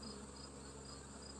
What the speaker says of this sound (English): so here are some of the bees